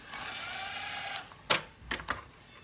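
Power drill used while working on a gaming PC, a steady whirring run of about a second followed by several short sharp bursts and clicks.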